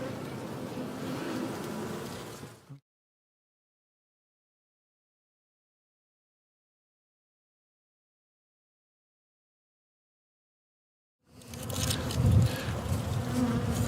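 A steady, close buzzing of honey bees at the start, then a long stretch of silence before the buzzing swarm returns.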